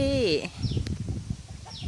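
On an egg farm, a chicken gives a short tonal squawk, followed by softer low clucking and scattered farm noise at close range.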